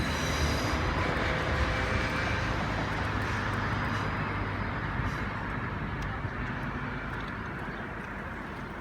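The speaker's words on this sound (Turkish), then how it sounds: "Espan gidiyor. Espan yani tren yani." A Berlin S-Bahn commuter train rumbles past steadily, a broad continuous roar that slowly fades over several seconds, with no voices.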